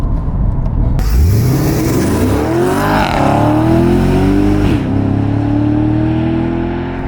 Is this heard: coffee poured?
no